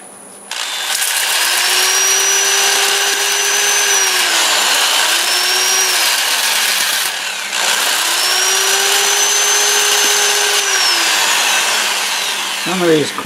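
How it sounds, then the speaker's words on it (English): Juniper wood on a lathe spinning in reverse at around 400 rpm while being sanded with a 2-inch disc, giving a steady loud whirring drone in two long passes separated by a brief dip, close and continuous. "I'll have the lathe running in reverse at about 400, and we'll go ahead and get it sanded up"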